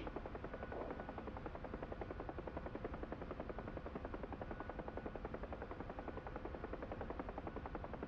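A training helicopter, flown on an introductory checkride flight, hums through a descent as speed bleeds off: steady, even rotor chop and engine whine that continues evenly throughout, moderately faint, with no voices.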